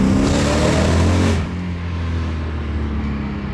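A BMW E36 M3 Evo engine revs hard and close for about a second and a half, its tone climbing, then drops back to a lower, steadier drone as the car cruises on.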